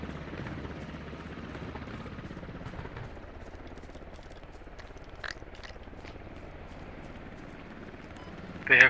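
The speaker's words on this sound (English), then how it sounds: "They have helicopter landing on the north." A video game helicopter's rotor thrums steadily at a distance while landing, faint beneath a person talking, with a brief louder burst at the end.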